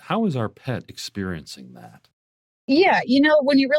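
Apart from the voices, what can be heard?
None of the usual background noises is heard.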